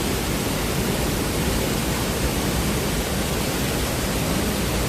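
Cheonmun waterfall near Seoul roars as a steady, dense rush of falling water, loud and close, with a constant broadband wash and no voices over it.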